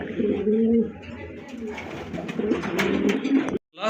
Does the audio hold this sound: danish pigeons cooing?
yes